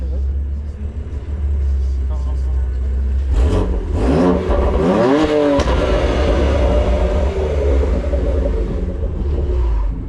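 Car engine revving loudly through an RR Performance aftermarket exhaust with the flap open, rising and falling in sweeping pulls over a steady idle rumble, with people talking over it.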